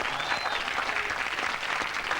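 Studio audience applause on a live lunchtime TV chat show, a steady dense wash of clapping that holds at an even level throughout without breaks or voices.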